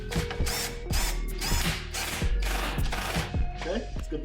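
A torque wrench ratcheting on subframe bolts of an E39 BMW M5, a steady run of close, regular metallic clicks at roughly two per second with brief pauses.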